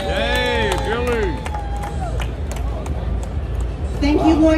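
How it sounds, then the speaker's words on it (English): An audience at a cooking demonstration of potato focaccia claps for a young helper named Billy. A high voice whoops over the start, then a loose patter of clapping and crowd noise follows, with voices rising again at the end. "How about a round of applause for Billy helping out?"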